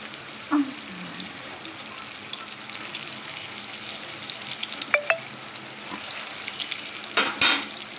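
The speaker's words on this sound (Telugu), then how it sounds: "మీడియం ఫ్లేమ్లో పెట్టుకొని ఫ్రై చేసుకోవాలండి" Chicken leg pieces fry over a medium flame with a steady crackling sizzle, punctuated by a few utensil clinks and a brief clatter near the end, nearby and without talk.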